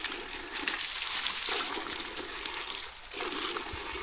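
Water splashing and sloshing steadily as someone bathes in a natural spring on a cacao farm, a continuous close wash of water with small surges, no talk.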